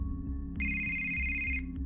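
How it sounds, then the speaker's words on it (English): A phone ringtone sound effect plays alone, a bright electronic ring burst over a low repeating pulse, close and clear with no talk. "And a few minutes later, her phone rang"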